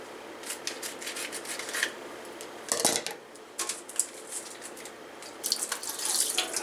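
Tap water runs into a strainer to rinse shirataki noodles, making a steady close splashing hiss with bursts where the stream hits harder and some metallic rattling of the strainer.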